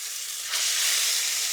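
Rabbit meat searing in hot ghee, a loud dense sizzle that jumps up in intensity halfway through and holds steady, close and continuous with no voices.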